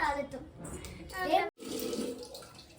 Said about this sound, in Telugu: మేమైతే నీళ్ళు అయితే పోస్తున్నాం